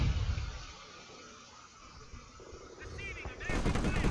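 Gunfire and artillery from a Company of Heroes 1 match, a steady dense rumble of shots and blasts that builds into louder, sharper bursts near the end, with no speech.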